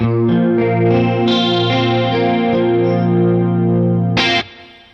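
Electric guitar through a Boss Katana amp's DC-30 chorus effect pushed into distortion, sustained chords with a shimmering, warbling wash, loud and steady, then a sharp final strum that cuts off near the end.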